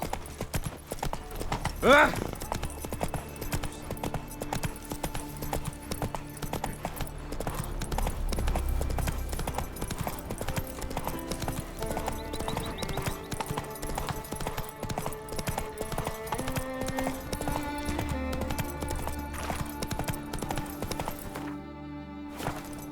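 Horse hooves clip-clop at a steady trot in The Witcher 3, heard continuously beside game music, with a brief whinny early on and a voice speaking over it.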